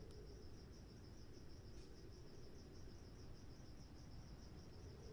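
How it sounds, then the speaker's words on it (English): Crickets chirp outside a window in a steady, continuous high trill, layered over a constant low background rumble, with no voices present. "Can you guys hear my IRL crickets?"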